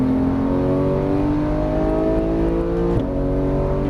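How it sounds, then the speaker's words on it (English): A Porsche GT3 engine revs steadily and loudly on a race track, its pitch climbing smoothly for about three seconds before a brief dip, close and continuous with no talking. "Let it rev up just a little bit more."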